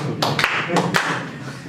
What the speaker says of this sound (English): Clap for Zanana.